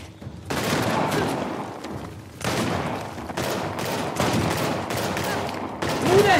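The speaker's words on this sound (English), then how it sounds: "Who the heck is shooting me" Gunfire in Uncharted: The Lost Legacy, repeated bursts of shots in several clusters separated by brief pauses, moderately loud with battle noise filling the gaps.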